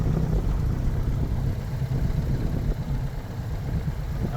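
A small piston aircraft engine runs up to a higher RPM during a pre-flight run-up, a steady loud droning rumble that holds throughout with slight fluctuation.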